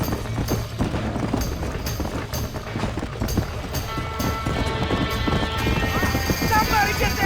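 Video game horses trapped in a burning barn in Red Dead Redemption: hooves clatter and a horse whinnies amid loud, continuous roaring background noise.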